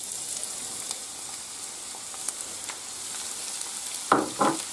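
Onion fries in hot oil in a pan: a steady, even sizzle with light crackles, then two louder stirring bursts near the end, no talking.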